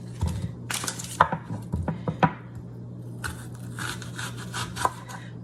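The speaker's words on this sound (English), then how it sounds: "it takes me less time just to slice it than to chop it" A knife slices through a very firm onion on a cutting board, giving a few crisp, close cuts and thuds spaced irregularly over a low background hum.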